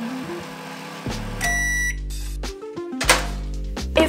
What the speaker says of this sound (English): Then, place it in the microwave for 20 seconds.